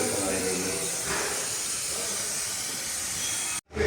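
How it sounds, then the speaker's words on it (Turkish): Steady spray hissing as engine parts are washed down during a car oil change, close and continuous for several seconds before cutting off abruptly near the end. "Tam şuraları yıkarken yani spreyle yıkıyoruz."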